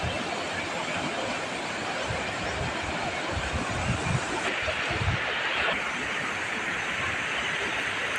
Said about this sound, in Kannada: ಅಂಡರ್ಗ್ರೌಂಡಲ್ಲಿ ಹೋಗ್ತಾ ಇರುತ್ತೆ ಈ ನೀರು